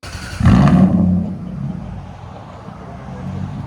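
A 2002 Lexus LS with a 4.6L V8 and true dual straight pipes gives one loud, throaty rev blip close by, then settles into a lower rumbling idle.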